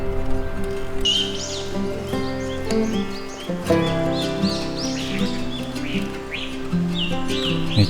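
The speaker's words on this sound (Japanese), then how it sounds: "めっちゃ鳥いる。" Many birds chirp and tweet outdoors in early summer in the Nagatoro area of Chichibu, Japan, a dense overlapping chorus of calls close and distant, continuous over a steady background hum.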